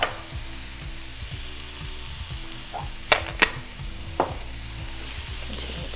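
Tuna casserole ingredients with salt, pepper, garlic and celery being mixed in a bowl, giving a steady low scraping and stirring with a few sharp clinks of the utensil against the bowl.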